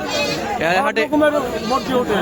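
Goats bleating at a Bangladeshi village goat market (haat) where many breeds are sold, several wavering bleats close by over a steady crowd murmur and talk.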